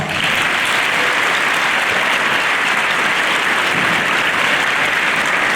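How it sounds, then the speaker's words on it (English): A school community event audience for Brotherhood-Sisterhood Week gives dense, steady applause that stays loud and even throughout, with no voices over it. "Let's give a big round of applause."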